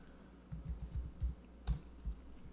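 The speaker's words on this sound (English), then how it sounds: "type my password" A password typed on a computer keyboard: a quick run of soft, close keystrokes, irregular taps clustered together with a short pause between them.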